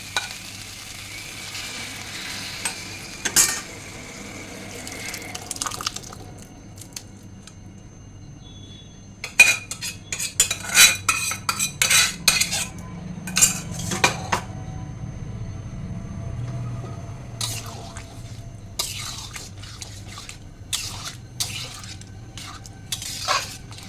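Boiled dal goes into a hot pot and is stirred, with soft sizzling under bursts of scraping and clattering from a spoon against the metal pot, louder in the middle stretch.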